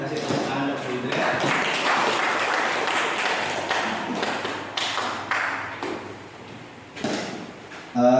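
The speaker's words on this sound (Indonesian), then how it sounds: "Mohon kasih tepuk tangan Bu Indra." A school gathering's audience claps after a presentation on positive school culture, a dense burst of applause that swells and fades unevenly, punctuated by a few louder thumps near the end.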